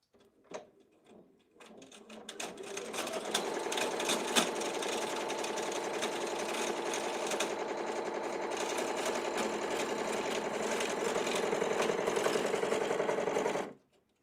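A Ricoma embroidery machine, a 12x8 EM1010 model, stitches a design with a steady, fast mechanical whirr and rapid needle clatter that runs continuously at close range for most of the clip before stopping abruptly.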